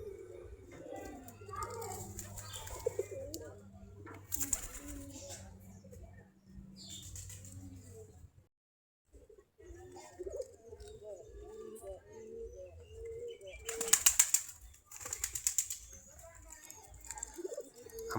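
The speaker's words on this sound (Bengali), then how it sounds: "সবগুলাই দেশি কবুতর" Local domestic pigeons from a backyard flock of about 40 pairs coo in low, rolling phrases at close range, with intermittent wing flutters and someone talking over them for much of the time.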